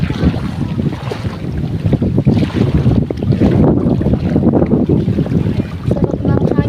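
Steady wind gusts rush across open water by a boat, a broad continuous roar with wave wash beneath, loud and close with microphone buffeting throughout.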